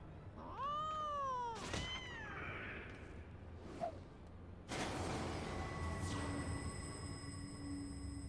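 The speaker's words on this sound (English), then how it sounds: "What is a metal-making kitten doing?" Game kitten meows from Final Fantasy XIV: a couple of rising-falling mewing cries with harmonics, followed by a thunk and then a sustained metallic, ringing machine-like tone over steady game ambience.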